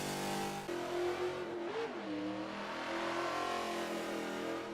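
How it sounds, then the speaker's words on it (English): A 1971 AMC Javelin AMX muscle car in Forza 7 at Road America, its engine droning loudly and shifting pitch as it revs and changes gear, steady and continuous with no talk. "The second car to tackle Road America, and in turn the first car to try and tackle the benchmark lap time, was this, the 1971 AMC Javelin AMX."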